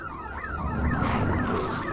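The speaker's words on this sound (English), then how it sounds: "that last Tommy grumble set off every car alarm on the block." Several car alarms on a street blare at once, overlapping warbling and sweeping electronic tones, loud and continuous with no talking.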